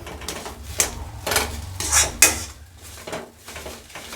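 A spoon clinks and scrapes against a bowl while amchur is mixed into a vada filling, a series of irregular close metallic taps and rubs with no talking.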